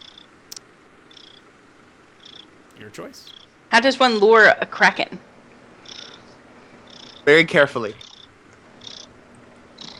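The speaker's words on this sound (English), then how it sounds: "My cat has crawled onto my chest right by the microphone." A cat purrs steadily right against the microphone while lying on a person's chest, a soft continuous rumble running beneath a group's conversation with louder voices cutting in.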